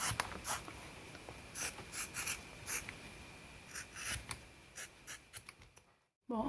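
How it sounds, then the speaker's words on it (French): Scissors cut roughly through rubber stamps on cardboard, a series of short crisp snips and rustles at close range, quiet and irregular, ending with a brief silence and one final clip. "maintenant je découpe mes tampons au ciseau d'abord"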